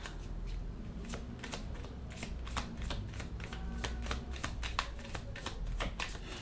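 Tarot cards shuffled by hand give a steady series of sharp papery snaps and riffles, close up over a low background hum, with nobody speaking.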